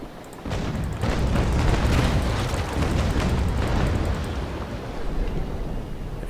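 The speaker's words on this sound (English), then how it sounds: "Quite a lot of damage there from just one broadside" Rumbling broadside of ship cannons firing in the Naval Action sailing-warship game, a dense loud barrage of overlapping booms rolling on for several seconds, heard alone without talk.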